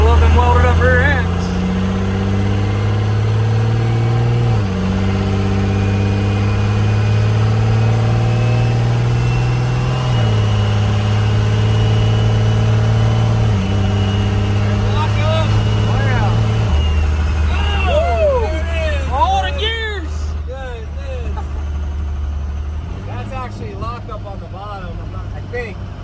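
A 1978 Chevy K20 truck's engine runs close by with a loud, steady low rumble. Its pitch steps up and down several times, and a few faint chirps come through near the end.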